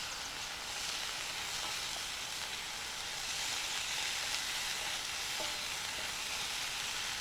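Ham sizzles steadily in a pan over a campground breakfast fire, a dense, even frying hiss that holds for the whole stretch with no talk over it.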